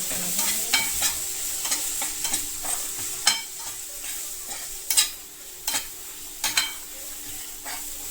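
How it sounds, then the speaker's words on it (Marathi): Ginger-garlic and green chilli paste sautéing in a pan for a dhaba-style tawa egg masala, a steady sizzle broken by repeated sharp spatula scrapes and taps, close and fairly loud. "आता आपण त्यामध्ये आलं लसूण आणि हे हिरवे मिरचीची पेस्ट आहे ती टाकू"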